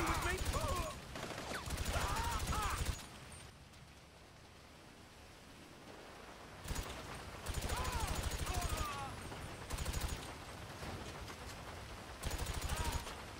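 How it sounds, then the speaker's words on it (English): Bursts of bullpup rifle fire in GTA 5 Online during a base-clearing mission, loud rapid volleys separated by quieter gaps with someone talking over parts of it. "Here I switched to my bullpup rifle, but again you could probably carry on using the shotgun."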